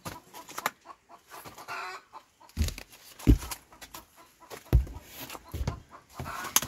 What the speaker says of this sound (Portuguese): E as galinhas barulhentas estão colocando ovos.